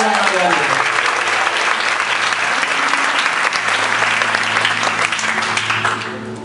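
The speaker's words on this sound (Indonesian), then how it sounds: "tepuk tangan yang luar biasa buat teman-teman" Church congregation applauding during a sermon, steady dense clapping from a large crowd that holds loud throughout and fades at the very end.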